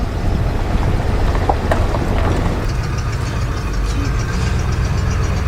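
A 1995 Ford F-150 truck engine runs in the countryside with a continuous low rumbling and knocking drone, fairly loud and close, its texture changing slightly midway, with no talk.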